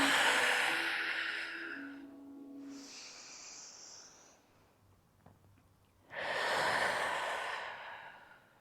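Deep breaths during a Pilates class: a long, airy inhale and exhale at the start, a quieter stretch in the middle, then another strong breath near the end, close and alone with no talking.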